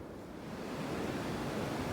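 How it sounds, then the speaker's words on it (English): Strong wind blowing along the Appalachian Trail in the North Carolina–Tennessee mountains, a broad rushing roar that swells slightly and holds steady, close and fairly loud with no voices. "Found out where the wind was hiding."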